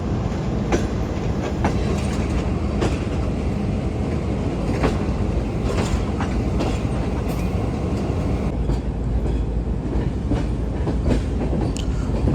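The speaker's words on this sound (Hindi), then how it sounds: "तो ये ट्रेन ट्रैक चेंज करके पहले अप लाइन पर जाएगी और उसके बाद फिर कॉर्ड लाइन पर चलेगी।" A Green Line economy-class train from Lahore rolls through points onto the up line at night, a steady loud rumble of wheels with repeated clickety-clack joints and faint squeals, close and continuous throughout.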